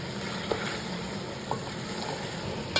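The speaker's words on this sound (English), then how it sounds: "Now add whole spices." Whole spices for beef paya (beef trotters) sizzle in hot oil over a medium-low flame, a steady close frying hiss with a few light clicks and pops.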